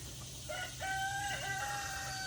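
A rooster crows outdoors among new chickens, one clear drawn-out cock-a-doodle-doo rising and falling at moderate distance, with faint clucking beneath and no talk.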